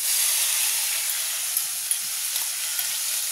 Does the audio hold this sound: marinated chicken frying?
yes